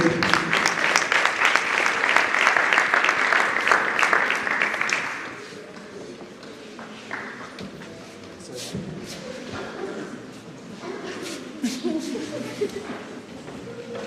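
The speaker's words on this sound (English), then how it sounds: "Let's clap for them." Applause from an audience at a church gathering, loud and dense clapping for about five seconds before it fades, followed by quieter room noise with scattered voices.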